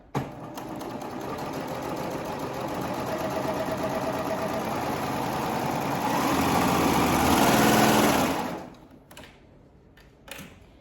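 A sewing machine stitches fabric with a fast, continuous mechanical chatter that runs steadily for about eight seconds, close and fairly loud, then stops, leaving a few faint handling sounds.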